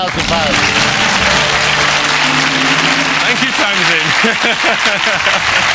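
Steady studio-audience applause on a Millionaire quiz show after a contestant wins £8,000, a dense, even wash of clapping with a voice speaking over it.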